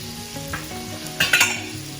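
Onion frying with a pinch of salt in a pan, a steady close sizzle with a couple of brief spatula scrapes near the end, no talking.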